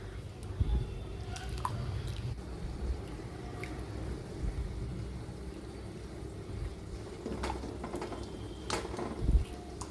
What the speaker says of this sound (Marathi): आता आपली भाजी चांगली उकळलेली आहे